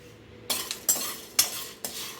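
Whole spices roasting in a pan over a medium flame, stirred with a utensil in several distinct scraping strokes over a faint background sizzle, close and moderately loud.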